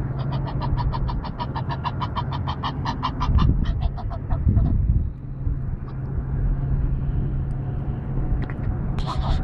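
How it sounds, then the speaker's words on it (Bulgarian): A rapid run of duck quacks in a steady series at a park lake, fairly close, over a constant background of traffic rumble, then a pause and a faint call at the end. "говорящи патици"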